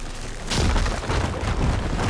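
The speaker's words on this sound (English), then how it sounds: "An explosion." An explosion in the video game Horizon Forbidden West: a loud, deep boom that swells and rumbles on for about a second and a half.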